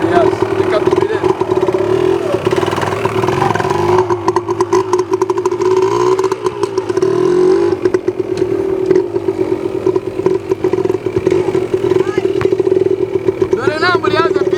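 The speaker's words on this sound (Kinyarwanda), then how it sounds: "Mwabonye uno munyeshuri afashe feri nta amburiyaje afite, moto ihise izima." A motorcycle engine runs at idle and then falls off as the rider brakes without pulling the clutch and stalls it. Someone talks continuously over the engine noise.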